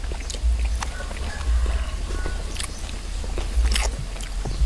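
Close, wet chewing and crunchy bites of spicy, bitter Thai beef larb, eaten in quick repeated mouthfuls right at the microphone with faint background noise.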